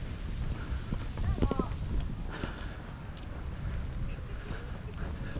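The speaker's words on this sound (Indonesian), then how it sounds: "Ini di Kiama blowhole." Sea water surges through the Kiama blowhole on the Australian coast, a constant heavy roaring wash mixed with wind buffeting the microphone, loud and close throughout.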